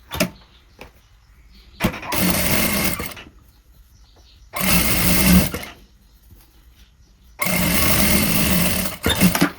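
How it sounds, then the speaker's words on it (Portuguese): A sewing machine stitches a straight seam closing the bottom of a fabric pocket for a cup holder, running in three loud, steady bursts of a couple of seconds each, separated by near-silent pauses. "E vai passar uma costura reta fechando somente a parte de baixo."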